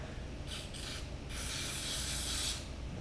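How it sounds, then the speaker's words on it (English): Brake cleaner sprayed onto a 4AGE engine cam cover during a rebuild, short hissing bursts followed by a longer continuous spray, close and steady, with no one talking. "I'm gonna clean this one off here too with brake cleaner too"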